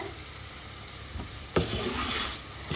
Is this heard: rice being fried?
yes